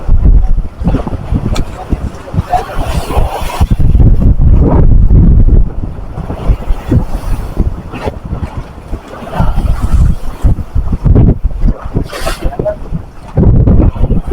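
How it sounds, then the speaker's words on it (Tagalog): Strong wind roars and buffets the microphone over water while fishing nets are set from a boat, with engine or hull noise beneath and voices talking intermittently throughout. "Malakas ang hangin."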